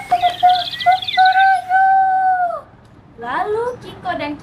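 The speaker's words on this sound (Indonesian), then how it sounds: "terdengar suara ayam" A rooster crows in a long, drawn-out call that holds steady before trailing off, loud and close, followed by a short burst of chirpy voice-like sounds.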